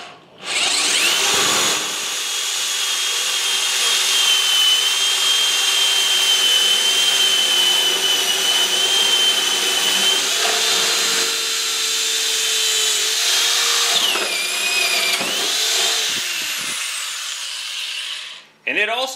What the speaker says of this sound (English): Now finally, for the last hole, I'm going to use a 3/4 inch spade bit.